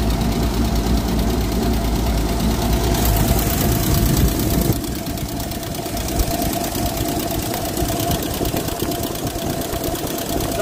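A 1946 Dodge Power Wagon engine running steadily and loud up close, with a rough, knocking idle rhythm and a slight shift in tone partway through.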